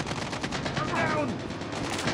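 Rapid automatic gunfire in the video game Call of Duty, a dense, continuous crackle of shots throughout, loud and close, mixed with game background noise.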